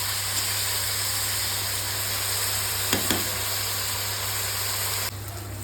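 Sliced bitter gourd fries in a pan with a steady, even sizzle throughout, a couple of brief louder crackles midway, and the hiss dropping slightly near the end, close and without talk.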